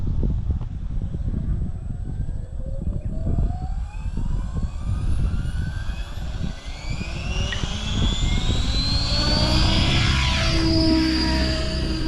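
RC helicopter motor during autorotation practice, a continuous engine roar with whines sweeping up and down in pitch as the motor cuts, idles and spins up again, loud and near, with wind noise.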